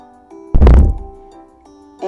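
A single loud, close hand clap for a listening test lands as one sharp, punchy hit with a short decay, set against a faint sustained tonal background.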